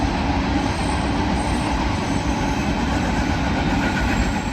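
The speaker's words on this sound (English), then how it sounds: "an empty grain train headed for Eastport, Idaho, to be interchanged with the Canadian Pacific is hustling by" An empty Union Pacific grain train hustles past on the Condon Branch, a loud, steady rumble and rattle of wheels and cars filling the clip without pause.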